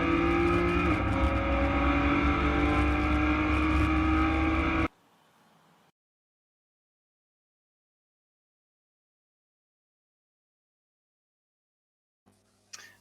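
A virtual McLaren race car laps Spa in a racing video game, its engine note loud and steady with rising and falling pitch for several seconds before cutting out into silence.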